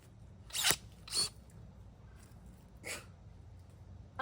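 Scissors cut through plant roots in a few sharp snips, two close together, then a pause and a third, each brief and crisp against quiet background.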